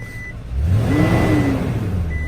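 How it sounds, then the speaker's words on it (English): A motor engine cranks and catches, rising into a loud steady idle up close, with a faint high whine over it. "If you disable the alarm, truck starts right up."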